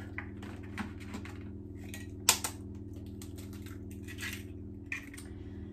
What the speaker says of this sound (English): And you want to crack your eggs into your dish, right up until the top.